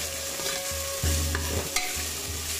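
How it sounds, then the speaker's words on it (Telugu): Green chillies, mint and coriander leaves frying and being stirred in a pan for Telangana bagara rice, giving a steady close sizzle with scraping stir strokes throughout and no talking. "ఇప్పుడు ఇందులో 6-7 పచ్చిమిరపకాయలు, గుప్పెడు పుదీనా ఆకులు, అలాగే కొంచెం కొత్తిమీర కూడా వేసుకొని వీటిని కూడా బాగా ఫ్రై చేసుకుందాం."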